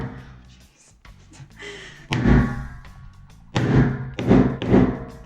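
Hammer blows knock loose old closet shelving, giving heavy thumps and thuds in bursts, some single and some in quick runs of two or three, close and loud in an indoor closet.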